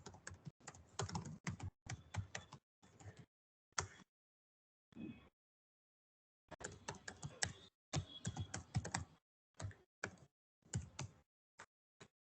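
Bursts of computer keyboard typing while code is entered for a MERN stack web project, quick clustered key clicks in uneven runs separated by short pauses, close and fairly clear with no talk.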